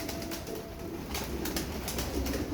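Pigeons coo softly in a low, rumbling murmur, with faint rustling and a few scattered sharp sounds around them.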